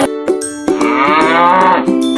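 A cartoon cow in an animated village story lets out a loud, drawn-out moo, preceded by a couple of short lowing grunts, heard alone without any talk.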